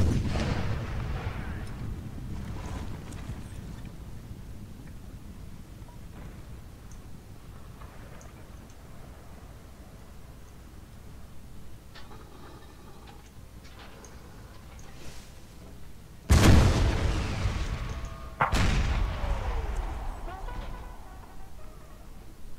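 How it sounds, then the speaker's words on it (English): Artillery fire in a Napoleon: Total War American Civil War battle: two loud, booming cannon blasts land close together near the end, over a low, steady battlefield rumble. "These guys, I think, are firing at my arty."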